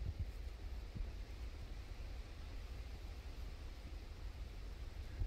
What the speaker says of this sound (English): You hear the wind going through the trees.